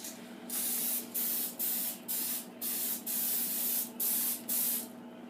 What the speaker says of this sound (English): I'm just using canola non-stick cooking spray.